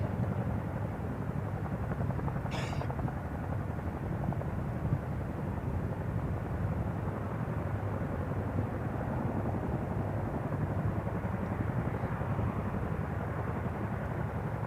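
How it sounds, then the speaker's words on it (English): Chinook helicopters flying during an Indian Air Force exercise, a steady loud rotor roar and engine drone that holds throughout with little change, heard alone with no talk. "Now the Chinook helicopters have completed their mission and are moving on to the next mission."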